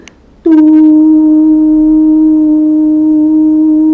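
A 300 Hz test tone fed into a microphone: a soft click, then a loud, steady, unbroken hum with faint overtones that runs to the end, with no voice.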